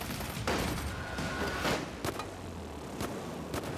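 Gunfire in an armed shootout, several sharp shots and bursts at uneven intervals over a noisy, busy background, fairly close and loud.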